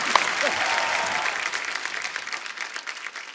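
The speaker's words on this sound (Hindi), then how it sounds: "जोरदार तालियां एक बार बाबा जी के लिए" Dense audience applause fills a live comedy stage show, steady broadband clapping from a large crowd that holds even throughout before thinning slightly at the end.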